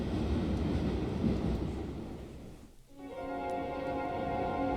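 A train carriage in a video game rumbles steadily with a broad low roar and wind-like noise, dipping briefly before a faint tonal hum rises over the continuing rumble.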